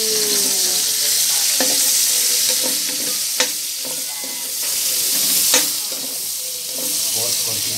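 Garlic and onion fry in a pan for bistek tagalog, a dense, steady sizzle close up, broken by scattered clinks and scrapes of a utensil stirring, with no talking.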